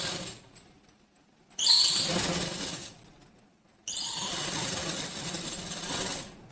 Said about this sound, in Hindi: अब मैं इसके चारों तरफ सिलाई मारती हूँ।